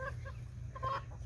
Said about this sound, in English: Oh, more chickens.